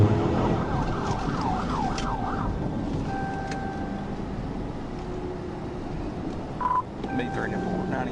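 A police cruiser's siren wails in rising and falling sweeps during a pursuit, caught on a dashcam over steady road and engine rumble, with a few short tonal beeps near the end.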